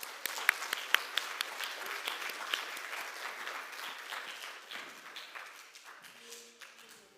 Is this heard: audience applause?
yes